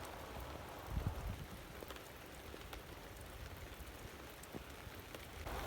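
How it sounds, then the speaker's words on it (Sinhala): Heavy rain pours down steadily in a village setting, a dense, close hiss of drops striking surfaces with occasional louder spatters and no talking. "සුපිරි වැස්සක් වහින්නේ."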